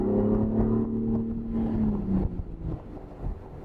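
A 2023 Ford Bronco Raptor's engine rumbles throatily while driving, a low steady drone with a tone that slides downward as the truck slows, heard from inside the cabin against some wind noise.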